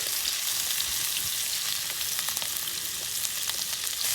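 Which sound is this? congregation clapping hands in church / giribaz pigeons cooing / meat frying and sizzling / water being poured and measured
meat frying and sizzling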